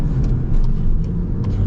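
A 2025 VW GLI with a manual transmission pulls away from a green light, its engine a loud, steady low rumble that lasts under two seconds with no talking.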